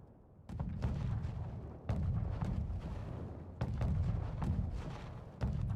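Mortar rounds fire in a strategy video game battle, coming as four heavy booming thuds spaced about two seconds apart, each with a loud low rumble that lingers and fades before the next launch.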